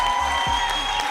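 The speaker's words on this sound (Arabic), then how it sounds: "تشجيع قوي جدا من احمد سانتا الانيس." Audience applause with crowd cheering at a rap competition final, a steady dense wash of clapping heard alone at close range.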